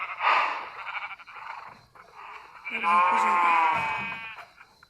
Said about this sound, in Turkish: Burada koyunlar var.